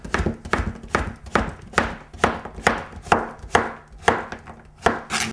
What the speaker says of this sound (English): I'm going to chop it up like this